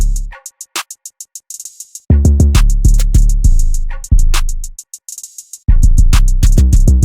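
Trap drum loop with a Pierre Bourne kit hi-hat, a short snare from Chopsquad DJ's kit and a booming 808, sharp rapid hats over heavy sustained bass hits and snappy snares, loud and up close with no talk.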